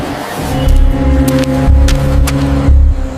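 A car arrives with a low, steady engine rumble close by, idling and pulsing gently for a few seconds before easing off.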